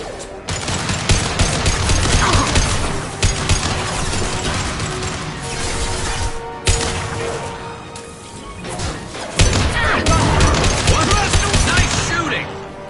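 Rapid bursts of automatic gunfire and crashing impacts fill a Mass Effect 2 firefight, loud and sustained with brief pauses, mixed with game voices.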